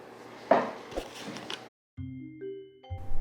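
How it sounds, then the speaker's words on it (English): A notification bell sound effect chimes with a bright ding, followed after a brief silence by a layered, tonal electronic ding-dong that rises in steps, clear and close with no talking. "ring that notification bell"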